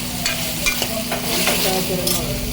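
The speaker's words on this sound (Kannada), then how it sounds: "ಮಂಗಳೂರು ಸೌತೆಕಾಯಿನ ಹಾಕ್ಬಿಟ್ಟು ಒಂದು ಎರಡರಿಂದ ಮೂರು ನಿಮಿಷ ಮತ್ತೆ ಅದನ್ನು ಸ್ವಲ್ಪ ಎಣ್ಣೆಯಲ್ಲಿ ಹುರ್ಕೋಬೇಕು" Mangalore cucumber pieces fry in hot oil while being stirred, giving a loud, steady sizzle broken by several scraping spoon strokes against the pan.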